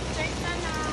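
Rain falls steadily at a guesthouse during a flood, a dense even patter heard close for a brief moment with no voices.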